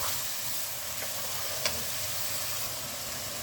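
Masala for chicken karahi fries and sizzles in a pan with some stirring: a soft, steady hiss with faint scraping, a single brief tick partway through, and no voices.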